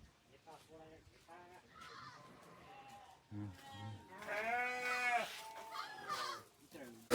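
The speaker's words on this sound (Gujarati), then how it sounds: "ત્યાં જો ઘેટા બકરાની ગાડી આવી છે" Sheep and goats rescued from a slaughterhouse bleat repeatedly, some calls long and wavering, while people talk faintly in the background.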